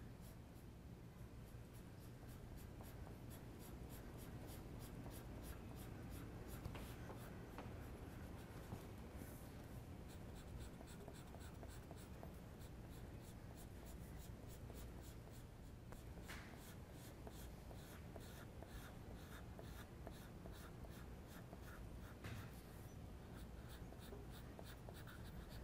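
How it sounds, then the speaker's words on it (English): Ebony pencil shading on paper while drawing a horse head portrait, a steady close scratchy graphite rasp with rapid repeated strokes throughout, no talking. "I am using my ebony pencil because my 8B pencil did not give me a dark"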